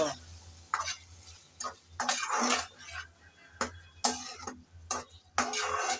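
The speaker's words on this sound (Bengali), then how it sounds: "টমেটোটা দিয়ে আবারও নেড়ে চেড়ে কিছুক্ষণ মিশিয়ে নেব" Spoon stirring chopped tomatoes into a Bengali chickpea and chicken curry (chola bhuna), giving repeated scraping bursts in an irregular rhythm over a low steady hum, close and moderately loud.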